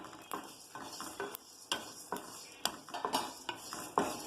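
Cloves, cardamom and pepper are dry-roasted in a pan, making quiet, irregular metallic clinks and scrapes as the spices are stirred and tossed.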